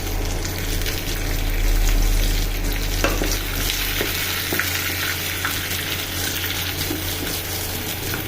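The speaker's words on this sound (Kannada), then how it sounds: "ಆಮೇಲೆ ಮೆಣಸಿನಕಾಯಿ ಹಾಕಬೇಕು." Green chillies frying in a pan make a loud, steady sizzle with bubbling crackle, with a few stirring clicks and scrapes cutting through the close hiss.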